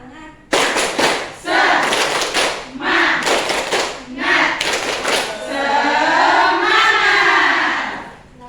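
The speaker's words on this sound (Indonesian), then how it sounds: "sekarang kita tepuk semangat dulu ya" Schoolchildren in a classroom perform a rhythmic spirit clap, sharp bursts of group clapping in a patterned beat mixed with chanting voices, then a sustained shout from the group.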